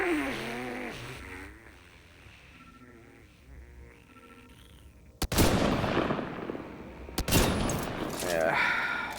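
Sharp sniper rifle shots in Mass Effect Andromeda, two loud cracks a couple of seconds apart that cut through game music and ambience and then ring and fade.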